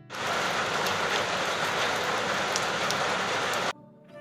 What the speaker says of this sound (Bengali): প্রচণ্ড পরিমাণে বৃষ্টি হচ্ছে দেখতে পাচ্ছ